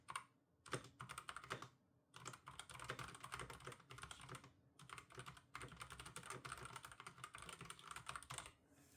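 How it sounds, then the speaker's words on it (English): Continuous rapid clacking of a Redragon K580 PRO wireless mechanical keyboard with red switches, bursts of keystrokes with a few short pauses, close and fairly loud, no voices. "let me just show you what this would sound like if you was actually typing"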